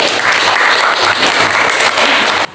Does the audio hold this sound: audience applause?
yes